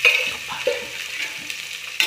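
Onions sautéing in a spoonful of oil in a pan, a steady soft sizzle with a few scrapes of stirring, close and fairly quiet, no voices.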